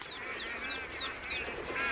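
A flock of bar-headed geese calls repeatedly at a wetland in Kaziranga National Park, India, short nasal honks overlapping steadily at moderate distance, with no voices.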